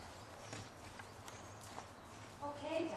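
Horse hooves at a canter during a riding lesson, a soft rhythmic clip-clop of footfalls against steady background noise, faint and fairly distant, with a few louder thumps near the end.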